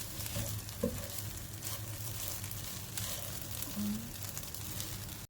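Kimchi fried rice with egg frying in a pan, a steady soft sizzle and crackle running throughout, faint and continuous with a couple of brief scrapes.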